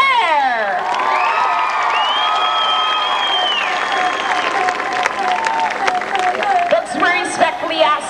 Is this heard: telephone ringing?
no